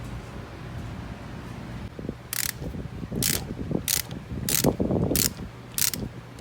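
A ratchet tightens a 3-jaw puller on an engine pulley of a Dodge/Chrysler/Jeep 2.4L engine, producing six sharp clicking bursts at a steady pace amid mechanical creaks and low grinding, close up.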